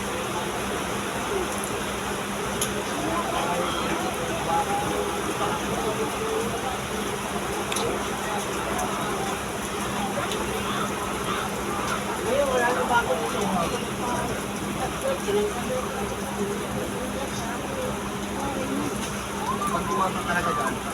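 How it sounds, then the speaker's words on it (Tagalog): Rain falling near a roadside food stop in Southern Leyte, a steady hiss of drops that holds for the full length, with faint background voices and a low hum underneath. "ulan"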